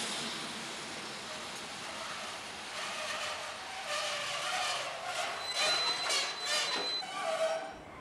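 A train rumbles with a broad rushing noise of rail cars on the tracks, rising in intensity, with brief high wheel squeals near the end, steady and fairly loud throughout.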